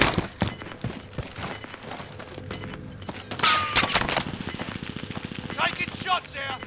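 Bursts of automatic and single-shot gunfire in a Call of Duty Warzone 2.0 match, loud and close, mixed with game effects and a brief radio-style voice.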